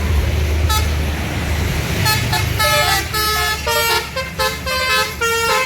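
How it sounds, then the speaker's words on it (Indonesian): A Panda Sumber Jaya bus entering the city of Palembang sounds a loud, close musical horn in a rapid series of toots, over a rumbling engine and road traffic noise. "ada bus Panda Sumber Jaya ini. Masuk kota Palembang."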